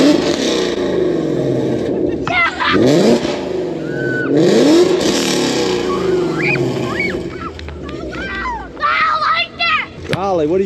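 A 2020 Ford Mustang GT350 with catless 2M Fab headers and a Corsa X-pipe revs hard several times close by, with sharp rising blasts and crackles, while adults and children talk and react over it.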